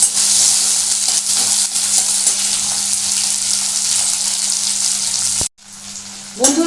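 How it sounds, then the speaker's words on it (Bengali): Onion deep-frying in hot oil until browned like birista, a loud, close, continuous sizzle that cuts out abruptly near the end and then returns in a brief, stronger burst, with no voices. "এটাকে আমাকে কিন্তু পুরো লাল করে বেরেস্তা করে নিতে হবে। এটাকে আমি লাল করে ভেজে নেব।"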